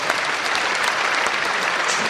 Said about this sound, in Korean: 우원식 안수집사님 여러분 좀 축복의 박수 해주시면 어떻겠습니까?